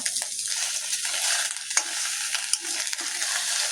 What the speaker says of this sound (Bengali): এই ডিম ভাজাগুলো এত তাড়াতাড়ি কিরকম হয়ে যায়।